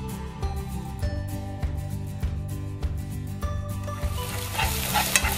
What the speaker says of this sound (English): When your oil is already heat up, I'm gonna put my salad, sliding salad onion in here first.